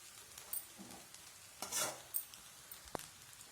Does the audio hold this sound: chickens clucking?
no